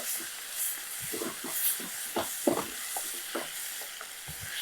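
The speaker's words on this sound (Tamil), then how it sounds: "நல்லா அப்படியே நல்லா இடித்து விட்டுருங்க, நல்லா கிளறிக்கோங்க." Roasted brinjal being mashed and stirred with tomato and onion in a pan, with repeated soft thuds and scraping strokes over a steady sizzling hiss, close and moderately loud.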